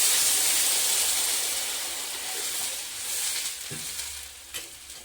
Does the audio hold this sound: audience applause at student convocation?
no